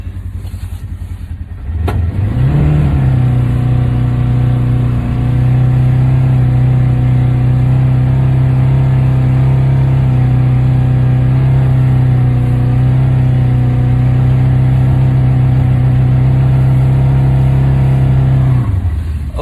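A vehicle engine starts and then drones steadily at a constant pitch for a long stretch, loud and close, as it tries to move over snowy ground.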